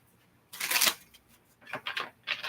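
Cards being shuffled in three quick riffling bursts, a long one followed by two shorter ones, close by with no talking.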